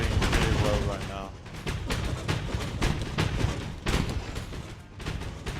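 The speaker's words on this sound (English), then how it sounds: "The artillery, the rocket artillery is doing really well right now." Rocket artillery in Total Tank Simulator firing repeated salvos, with sharp launches and thuds spaced a second or so apart over a continuous rumbling battle din, while a voice talks in the background.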